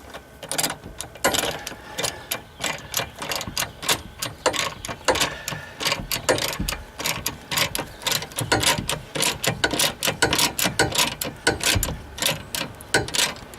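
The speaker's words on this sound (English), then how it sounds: "And tighten the bolt back down." A ratchet wrench tightens a bolt on a Hi-Lift jack mount fitted to a Jeep JK Wrangler, with rapid, steady metallic clicking that comes in bursts with brief pauses, close by and without speech.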